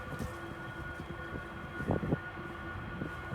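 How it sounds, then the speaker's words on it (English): Diesel heater running inside a step van, a steady low droning rumble with some irregular knocking thumps, heard faintly from nearby with no talking. "And that noise you hear is from the other side. That would be the diesel heater."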